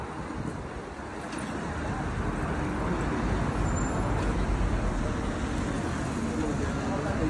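Steady street traffic in Amsterdam, with cars, bikes and trams passing, forms a continuous wash of road noise close by, with a few faint higher clanks and squeals above the rumble.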